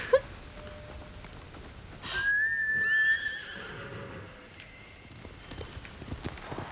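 A horse in Ghost of Tsushima gives a clear neigh with hoofbeats clip-clopping around it, heard alone and moderately close.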